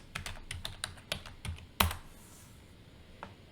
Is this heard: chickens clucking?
no